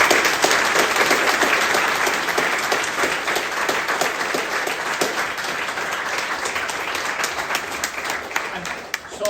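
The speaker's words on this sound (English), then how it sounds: "everybody give her a round of applause" Audience at the Recovery Connections BRIM launch applauding: dense, sustained clapping from a crowd filling the room for several seconds, steady and fairly loud, easing slightly toward the end.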